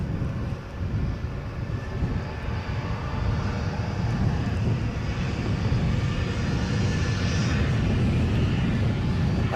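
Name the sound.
Embraer jet aircraft passing at Edinburgh airport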